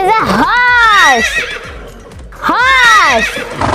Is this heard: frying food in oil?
no